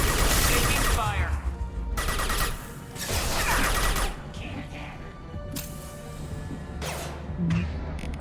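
Gunfire in a Mass Effect 2 firefight comes as scattered bursts and sharp shots, with mechanical clanks mixed in and a voice speaking at times.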